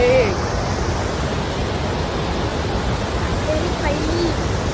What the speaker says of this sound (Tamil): அதர் ஃபால்ஸ் வந்தாச்சு.